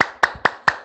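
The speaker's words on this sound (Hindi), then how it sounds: "ताली अभिवादन।" Four sharp, evenly spaced claps ring out close and crisp, a group clapping together in greeting at the end of a yoga session, with nothing else heard between them.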